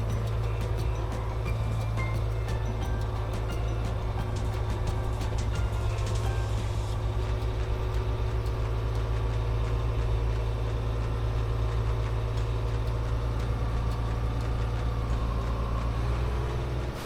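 A truck is maneuvered into a parking spot, its engine idling with a steady low drone, with faint intermittent beeping above it throughout.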